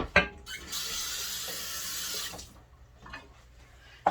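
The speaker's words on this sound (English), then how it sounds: "I'm going to put my chives in this little container. Put some water in it." Water running from a tap into a small container for holding chives, a steady splashing rush of about two seconds bracketed by a few knocks and clicks.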